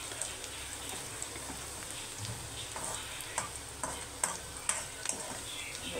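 Half a tomato hits a pan of onions and green-bean vegetable curry, followed by a soft continuous sizzle with light scraping stirs and a few faint clicks, quiet and close with no voices over it.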